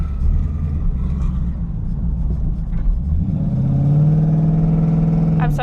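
Twin-turbo Ford Mustang engine revving while driving, heard from inside the car, a loud low rumble that climbs into a rising, steady tone as it accelerates in the second half.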